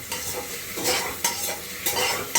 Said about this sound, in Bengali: এগুলোকে একটু ভাজবো